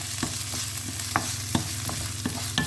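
Ham being stir-fried with wild garlic flowers in a pan, a steady close sizzle broken by scattered spatula scrapes and clicks against the metal.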